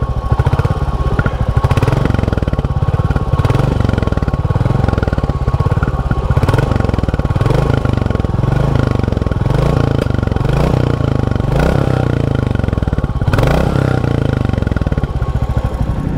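Royal Enfield Bullet 350 motorcycle engine running, a loud, steady single-cylinder thump with a lumpy, rhythmic exhaust beat and periodic revving swells, heard close and alone.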